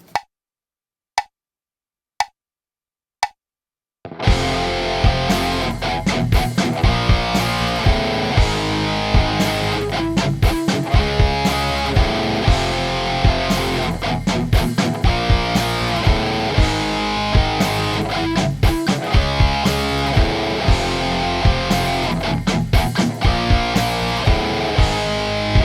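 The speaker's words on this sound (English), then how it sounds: "we're going to add distortion to our amp tone" Electric guitar with amp distortion plays a riff at half tempo after four sharp count-in clicks; the loud, dense, steady strumming continues alongside a ticking click track.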